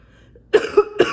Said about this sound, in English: I'm just still trying to shake this cough